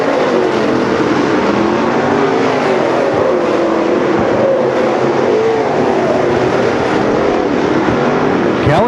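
Dirt track race cars in a USMTS modified heat race scream down the front straightaway, loud and continuous, with overlapping engine whines rising and falling as the pack passes under steady crowd-level roar.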